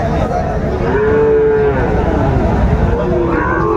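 Sahiwal cattle moo loudly and close by at a busy cattle market, two long drawn-out lowing calls over a constant background of crowd chatter.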